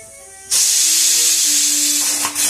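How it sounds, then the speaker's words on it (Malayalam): A pressure cooker with bananas inside bursts into a loud, steady steam hiss and whistle after a quiet start, holding strong for about two seconds with a brief dip near the end. "ഒരു വിസിൽ വന്നിട്ടുണ്ട്. നമുക്കിത് ഓഫ് ചെയ്യാം."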